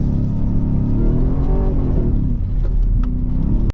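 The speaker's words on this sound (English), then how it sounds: "And then having that V8 with that beautiful soundtrack." A 2023 Ford F-150 Raptor R V8 revs hard, loud and close, a thick, rumbling roar with rising and falling tones that holds for several seconds before cutting off abruptly.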